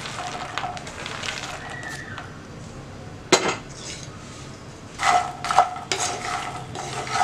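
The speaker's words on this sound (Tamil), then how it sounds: "நம்ம வந்து நல்லா ஃப்ரை பண்ணிக்கலாம்" Phool makhana is fried in a pan over low flame, a spoon knocking and scraping against the metal in irregular clinks over a quiet background, with one sharp louder clatter midway.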